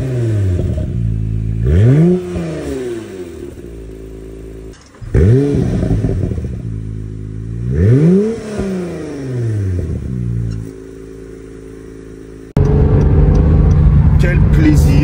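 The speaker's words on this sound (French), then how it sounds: "un tout petit moteur de 3 litres 5 qui est juste derrière et qui chantonne" A Honda NSX's 3.5-litre engine revs repeatedly, rising and falling in pitch several times, loud and close, then settles into a rougher steady idle near the end.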